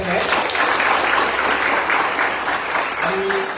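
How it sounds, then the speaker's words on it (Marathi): An audience at a Marathi guidance talk on UPSC civil services exam preparation breaks into loud, sustained applause to welcome the guest speaker, with a voice briefly audible near the end. "जोरदार टाळ्या स्वागत करूया पाठीमागे"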